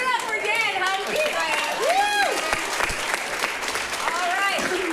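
A comedy showdown audience applauds comedian Dan Humke, with sustained clapping and crowd noise mixed with whoops and cheering voices throughout.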